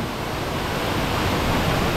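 A powerful waterfall in Cebu, Philippines roars with a steady, dense rush of falling water, loud and unbroken with no voices over it.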